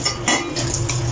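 Kadhi with salt is stirred in a pot, giving a short burst of soft scraping and a spoon clinking against metal, near and steady, with no voices.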